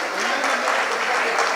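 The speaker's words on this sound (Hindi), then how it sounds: "आप लोग जोरदार ताली बजा के सम्मान करते जाएं।" An audience claps loudly and steadily during an honor ceremony at a Jain temple, a dense, continuous burst of applause that fills the whole moment.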